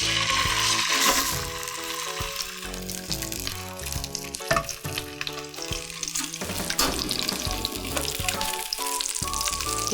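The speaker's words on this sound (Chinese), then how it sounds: "因为皮炒下，它会把它煎得比较金黄色之后，然后就可以翻过来，然后再煎" A thick salmon fillet fries skin side down in a pan, giving off a continuous sizzle and crackle beneath louder background music.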